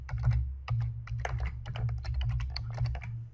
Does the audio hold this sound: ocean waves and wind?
no